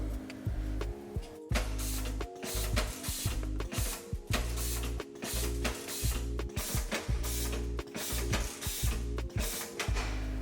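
A revolver button thread wrapping machine runs continuously up close, giving loud rhythmic mechanical clatter and ratcheting clicks over a steady motor drone, with no talking.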